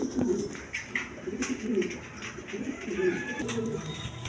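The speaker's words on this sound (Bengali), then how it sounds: "দর্শকবৃন্দ এইখানে দুইটা মাদি কবুতর আছে" Pigeons coo in soft, repeated throaty rolls, close by, with overlapping calls from a pair of female pigeons kept for sale, and a faint background hum.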